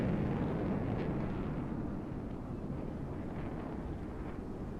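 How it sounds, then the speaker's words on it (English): Big jet airliner taking off in Microsoft Flight Simulator 2024 near the Grand Canyon, a distant, low rumbling roar that stays steady and slowly eases, faint and heard alone with a windy wash. "Somebody's taking off in a big old jet."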